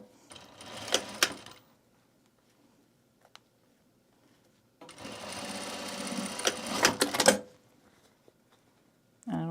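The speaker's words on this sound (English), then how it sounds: "Let's sew this right sides together." A home sewing machine stitches the seam of a self-drafted bag sewn right sides together, running in two bursts, about two seconds then nearly three, separated by near silence and a faint click.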